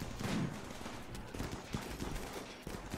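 Automated turrets firing bursts at mechanoids in the colony-defense game Rimworld, a dense rattle of game gunfire that runs continuously through the moment.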